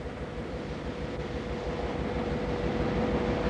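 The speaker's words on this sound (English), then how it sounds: "as the locomotives come in, now mostly 5 at a time, for service and turnaround at the headland workshops" Mt. Newman mining railroad locomotives rolling into the Headland workshops for service, a steady heavy rumble and rail noise at moderate distance that continues without pause and carries no speech.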